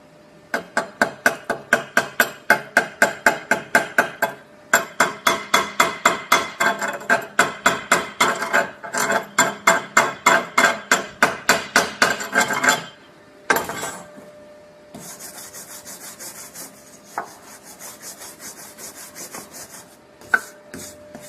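A hammer chips slag off a 7018 stick weld in rapid, sharp metallic taps at close range. A long burst of strikes is followed by scraping and brushing with scattered knocks, and no one speaks.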